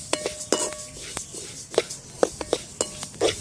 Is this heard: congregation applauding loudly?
no